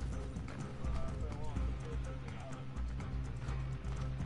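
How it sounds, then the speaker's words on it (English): Hooves of a horse galloping in Red Dead Online on PS4 give a steady, dense clip-clop beat inside a busy game soundscape, with voices talking over it. "Oh god, is that my horse?"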